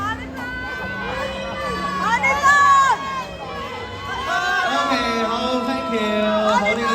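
A crowd at a shopping-festival concert stage cheers and calls out after a performance, with many overlapping voices swelling and holding loud.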